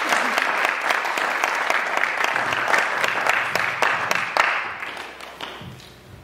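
At the Key Colour Award Ceremony 2020, an audience gives a warm round of applause for a nominee, individual claps standing out before the clapping thins and fades away near the end.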